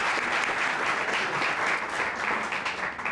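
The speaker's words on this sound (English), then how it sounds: "Please join us in a final round of applause for our sponsors." Sustained applause from a gala audience thanking event sponsors, a dense, steady wash of many hands clapping loudly throughout with no voices standing out.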